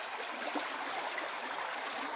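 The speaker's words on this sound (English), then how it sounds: "It's a beautiful little stream. Brook stream." A small brook flowing through an enclosed valley spot, a steady soft hiss of trickling water with no other sounds.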